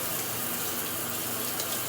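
Shower water pours steadily and closely with an even, unbroken hiss, no voices over it.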